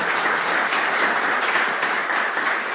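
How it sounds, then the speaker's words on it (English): Conference attendees at the DevDays 2023 developer event give a speaker a round of applause: an even, continuous wash of many hands clapping in a hall, steady in loudness throughout. "Please give him a round of applause"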